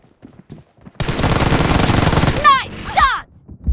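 Rapid automatic gunfire from PUBG Mobile in a team deathmatch arena, a loud, dense burst of about a second and a half followed by sharp ricochet-like whines, with quieter game noise before and after.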